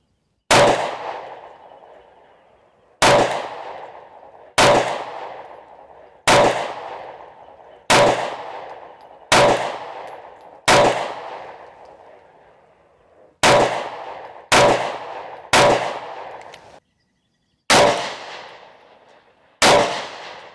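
Twelve sharp, loud Sig P365 pistol shots at a shooting range, fired with a new barrel that had a failure to eject. They come in an uneven string of single reports with short gaps and one longer pause, and each crack decays quickly.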